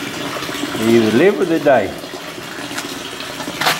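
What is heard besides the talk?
water being poured and mixed into a fish tank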